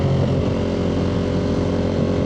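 Ducati Monster 1200 S motorcycle engine under throttle, a loud, close, buzzing drone with wavering harmonic tones over about two seconds, nobody speaking.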